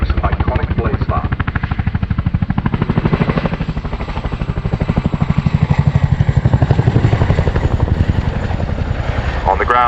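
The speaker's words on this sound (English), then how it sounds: "Get ready to hear the Chinook's iconic blade slap" A Chinook helicopter at an air display at Cosford throbs with loud, relentless rotor blade slap, a fast, even pulse that stays close and powerful throughout.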